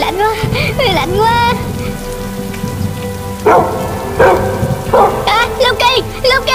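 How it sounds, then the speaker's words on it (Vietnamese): Steady rainfall patters through a Minecraft animation scene, a continuous wash of drops under whining dog yelps and character voices speaking over it. "Trời mưa rồi sao?"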